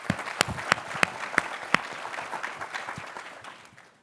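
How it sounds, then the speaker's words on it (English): An audience claps for guests at a financial inclusion summit, a few loud sharp claps standing out over a brief dense round that fades away within a few seconds. "let's give them a round of applause."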